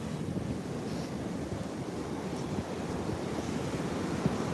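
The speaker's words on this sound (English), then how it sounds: "And the waves, oh my gosh, look at the waves." Ocean surf rolling onto a beach on a sunny day, a steady, broad wash of breaking waves with some wind noise on the microphone, continuous and fairly distant, with no talking.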